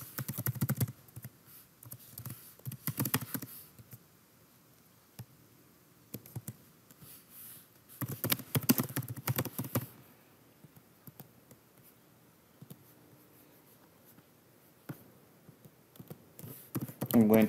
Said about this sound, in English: I'm going to type some details.